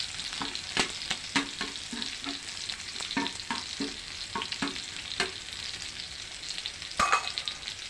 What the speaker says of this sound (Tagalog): Para habang nagigisa tayo, nagpiprito-prito pa siya ng konti.